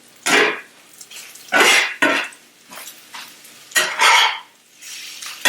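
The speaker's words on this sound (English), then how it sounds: "Love the sound of that scrape." Vegetables scraped around a pan with a utensil, a mixed melange being cooked: several loud, rasping scrapes in uneven bursts with short pauses between, close up and with no talking.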